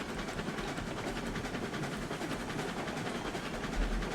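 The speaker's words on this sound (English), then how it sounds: "now we'll just have to see what this locomotive's got going up a grade" A steam locomotive in the game RailRoads Online labours up a grade, its engine and wheels making a steady, dense rumble with rapid rhythmic chuffing and clatter, continuous and fairly close, with no talk.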